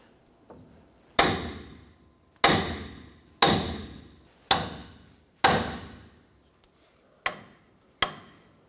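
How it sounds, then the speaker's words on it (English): Seven sharp metallic hammer blows strike the steering knuckle of a 1993-1997 Ford Ranger, five in a fairly steady rhythm and two quicker ones at the end, each decaying with a short ring. "Now we're going to go ahead and use our hammer. We're going to strike the knuckle right here"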